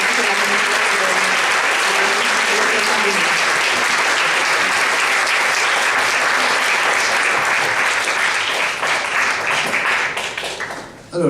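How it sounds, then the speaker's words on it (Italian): At the Prunola 2017 award ceremony, a large audience breaks into steady, sustained applause for over ten seconds, dense and close, before it cuts off abruptly at the end. "Un applauso io lo rivolgerei di cuore da parte di tutta l'amministrazione."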